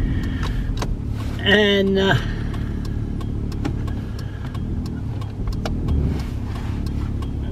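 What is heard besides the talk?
car engine running nearby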